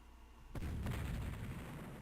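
Cannon fire in the Civil War strategy game Civil War Generals 2: a single sudden boom lands after a quiet moment, then a sustained rumbling roar fades slowly, fairly faint overall.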